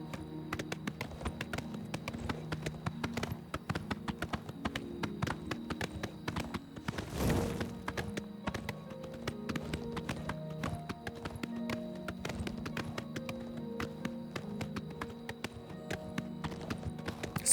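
Horse hoofbeats during riding in The Elder Scrolls IV: Oblivion, a fast, steady clip-clop of galloping hooves running the whole length, fairly faint, with a brief louder burst midway.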